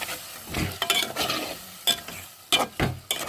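A spoon stirs pulihora, tamarind rice, in a pan after fresh coriander goes in, giving several scraping, sizzling strokes in uneven bursts, close and fairly loud with no talking.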